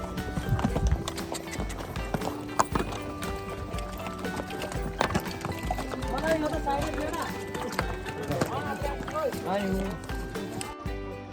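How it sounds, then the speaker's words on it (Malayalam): Horse hooves clip-clop steadily along a steep mountain trail near Pahalgam, a continuous busy rhythm of hoof strikes mixed with outdoor noise and people talking throughout. "ഈ വഴികളാണ് നമ്മൾ കുതിരയും കൊണ്ട് പോയിക്കൊണ്ടിരിക്കുന്നത്"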